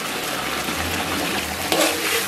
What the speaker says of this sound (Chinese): 然后咱们来点生抽